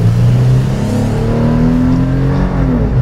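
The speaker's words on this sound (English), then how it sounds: "0 to 60 in the 2015 TRD Pro 4Runner. Just right off the line," A 2015 Toyota 4Runner TRD Pro launching from a standstill toward 60 mph, its engine droning loud and close with a steady rising pitch through one long pull, with no talk over it.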